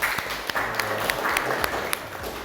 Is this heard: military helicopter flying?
no